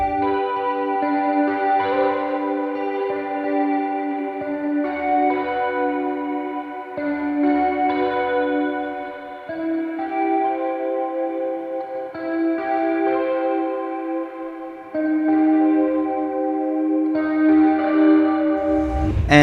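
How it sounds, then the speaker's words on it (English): An electric guitar part soaked in chorus and reverb plays alone as a continuous melodic take with shimmering, echoing sustained notes. "just added a good amount of chorus and reverb"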